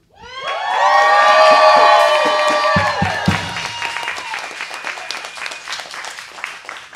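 An audience at an open-stage performance bursts into loud cheering, whoops and sustained applause. The noise peaks early, then settles into steady clapping with scattered shouts.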